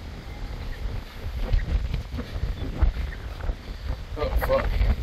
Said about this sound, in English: I'm sorry about the wind, guys.